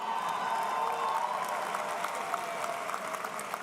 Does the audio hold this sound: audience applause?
yes